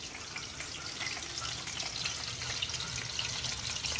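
Chicken lollipops deep frying in hot oil give a continuous, even bubbling hiss, moderately quiet and steady from start to finish, with no voices.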